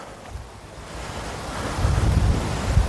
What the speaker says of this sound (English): Oh, the wind is strong.